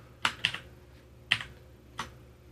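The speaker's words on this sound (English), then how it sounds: "I'm going to click on that, and I'm going to type in -1." Four crisp, close keystrokes on a computer keyboard, spaced unevenly over a couple of seconds against a quiet background.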